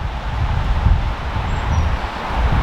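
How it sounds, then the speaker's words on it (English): Strong wind roars through a forest in uneven gusts, a loud low rumble buffeting close by with faint rustling and no voices. "It is really windy."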